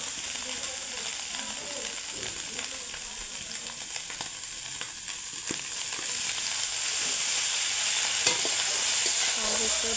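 Food fries in oil in a pan while being stirred, with a dense, continuous sizzle and scattered scraping ticks that grow slightly louder toward the end; no one talks.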